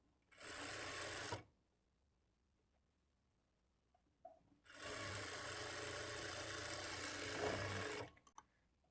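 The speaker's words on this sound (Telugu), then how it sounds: "ఇప్పుడు ఇక్కడ నుంచి స్టార్ట్ చేసుకొని పావించి మార్జిన్తో స్టిచ్ చేసుకోవాలి" A sewing machine stitches a lined blouse in two separate runs, a short burst of steady whirring followed by a longer continuous run, with quiet pauses between them and no talking.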